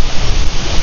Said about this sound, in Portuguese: Tá ventando bastante aqui.